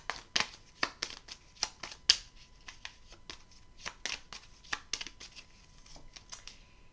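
Tarot cards are shuffled, drawn and laid down at a close, quiet table, giving a series of crisp papery flicks and slaps in an irregular rhythm with no talking.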